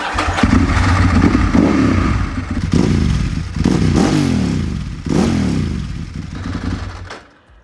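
Loud Ducati 996 motorcycle engine with a Termignoni full titanium race exhaust, blipped through several hard revs, each rising and falling, with a raspy, crackling exhaust before cutting off.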